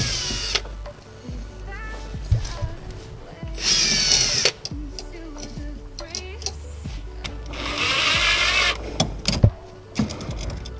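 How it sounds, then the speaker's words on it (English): A power drill bores through a car pedal mount on a Toyota Starlet EP82 GT Turbo during a Razo competition pedal set install, with two sustained whining bursts amid workshop clatter and handling noise. "So I'm just going to drill through it and use it as the plate."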